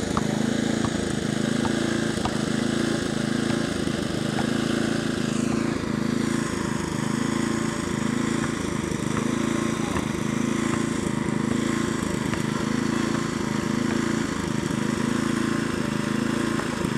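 A ride-on lawn mower engine runs steadily nearby, a constant low droning hum with a regular pulsing rhythm that persists throughout.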